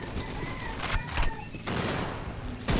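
Rapid bursts of gunfire from a gun in a Roblox shooting game crackle in quick volleys, loud and close, with short gaps between bursts.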